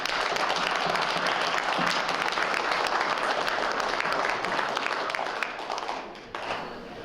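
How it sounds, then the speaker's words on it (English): At an evening talk, an audience gives a full, steady round of applause that holds for several seconds, then tapers off and drops away near the end. "Let's give them a round of applause"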